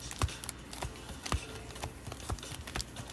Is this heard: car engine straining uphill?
no